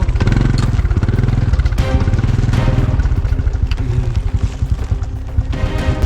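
Up close, a motorcycle rides along a narrow path toward a house, its engine loud and continuous with a rapid, throbbing putter and occasional bumps and clatter, and no speech.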